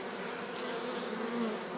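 Honey bees buzz steadily around a hive that is still working as busily as in June, a dense continuous hum at close range with no talk over it.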